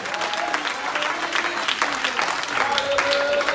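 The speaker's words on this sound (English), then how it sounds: "Come on, clap your hands up to God." Churchgoers clap their hands during a service in a lively, somewhat rhythmic run of clapping, with voices calling out over it.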